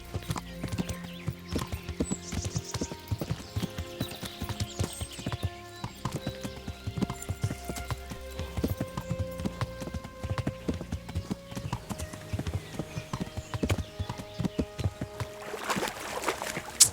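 Hooves pound in a quick, steady rhythm through shallow water in Kingdom Come: Deliverance, with splashing and an occasional horse whinny over a soft game soundtrack.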